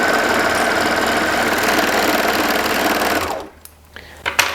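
A sewing machine runs a long, loud, steady straight seam on a knit t-shirt, then stops abruptly, leaving a few faint handling clicks.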